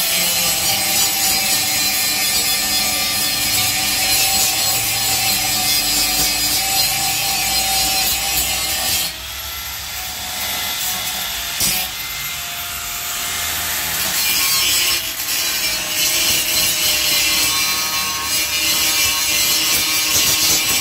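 Angle grinder working steel tubing for a church gate in a fabrication shop, grinding continuously with a harsh, gritty whine that shifts in pitch as pressure changes, briefly easing off midway before resuming, with no talking.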